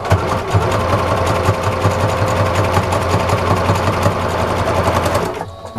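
A sewing machine runs a rapid, steady zigzag stitch through a dish sponge, loud and close, its motor buzzing evenly before stopping abruptly at the end.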